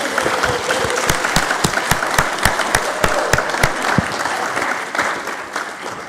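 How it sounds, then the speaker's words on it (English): Audience clapping at an annual general meeting, a steady round of dense handclaps with sharp individual claps standing out, filling the room for several seconds. "Take a big round of applause."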